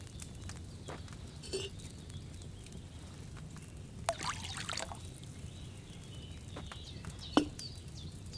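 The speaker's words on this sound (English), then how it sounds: "First, you have to pour the right base into the cauldron." Wine is poured from a pitcher into a cauldron in the medieval game Kingdom Come: Deliverance 2, a faint liquid trickle over quiet ambience with a few soft clinks and chirps.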